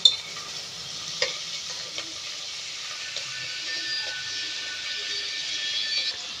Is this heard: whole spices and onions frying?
yes